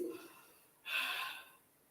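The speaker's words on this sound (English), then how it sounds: "as I hold, I'm gonna breathe" A person holding an exercise position breathes, letting out a single close, audible breath that swells and fades after a quieter intake.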